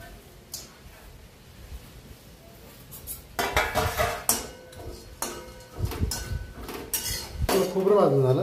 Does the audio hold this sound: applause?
no